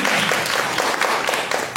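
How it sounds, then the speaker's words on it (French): An audience applauds for African children, a dense, steady wash of many hands clapping at moderate loudness, brief and uninterrupted. "Il faut applaudir pour ces enfants."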